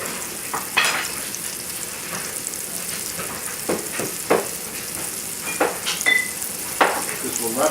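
Vegetables sizzle and crackle in a hot pan over a high flame after veal has been removed, with a steady frying hiss punctuated by stirring knocks and scrapes.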